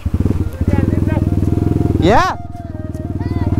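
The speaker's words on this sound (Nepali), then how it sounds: "अब माथि गएर बाइक कतिको साथ दिन्छ" A motorcycle climbs uphill on a mountain road, its engine thumping in a rapid steady rhythm close by and briefly revving harder, while a voice speaks over it.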